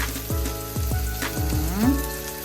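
Beef and broccoli stir fry sizzles steadily in a hot pan, with a run of sharp clanks as a utensil strikes the pan every half second or so while stirring, close and moderately loud.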